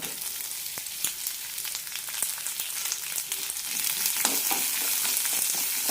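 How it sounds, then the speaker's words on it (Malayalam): Chopped onion fries in hot oil for an onion chutney, giving a steady sizzle broken by sharp crackles and pops as it is stirred, the frying getting louder toward the end, with no voices. "ഇനി ഇതിലേക്ക് സവാള മുറിച്ച് വിട്ട് കൊടുക്കണം"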